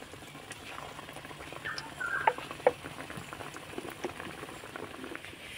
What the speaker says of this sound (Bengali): মুগশলা পিঠাগুলো ভাজার জন্য আমি উনুনে তেল গরম করতে বসিয়ে দিয়েছিলাম আগে থেকে, আর তেলটা মিডিয়াম গরম করে নিয়েছি। এবার আমি মুগশলা পিঠাগুলো ভেজে নেব।